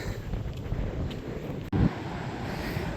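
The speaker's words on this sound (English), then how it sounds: "Get that wind kicking up that sand already." Wind gusting across an Oregon Coast beach, a steady broadband rush with low rumbling buffets against the microphone and a brief stronger gust near the middle.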